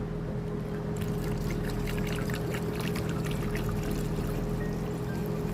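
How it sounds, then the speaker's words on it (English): Spring water pours through a funnel into a 3-gallon jug in a steady, close, continuous gurgling stream with a constant low hum underneath, no talking. "And then I just refill my 3-gallon jugs like this."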